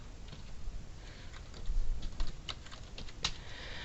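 A computer keyboard is typed on at a quick, irregular pace while entering an administrator password, light close clicks with a slightly louder keystroke near the end, over a quiet background.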